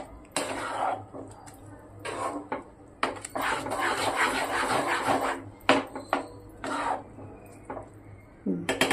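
A spoon stirs and scrapes dal khichdi in a pot, giving a series of irregular rubbing and clinking strokes that are close and moderately loud, with brief pauses between them.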